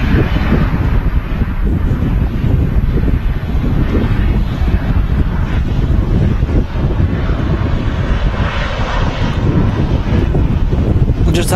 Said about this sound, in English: KLM 737-900 series aircraft.